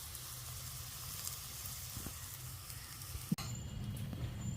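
Egg and potato masala frying in oil in a pan, a steady close sizzle with a single sharp clack near the end.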